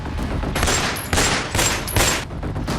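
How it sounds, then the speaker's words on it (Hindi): Rapid bursts of indiscriminate gunfire during a criminal attack in Danapur, Patna, Bihar, rattling off in quick succession with harsh, loud, dense reports over less than three seconds, no voices. "बेखौफ बदमाश, अंधाधुंध फायरिंग"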